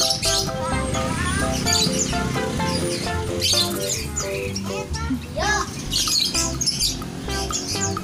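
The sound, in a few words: birds chirping and calling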